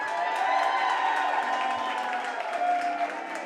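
An audience at a book festival event applauds and cheers, a moderate, continuous wash of clapping and crowd noise.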